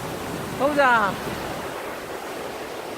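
A waterfall beside a forest trail on Sinbulsan in Ulsan gives a steady broadband roar throughout, with one brief shouted voice near the start.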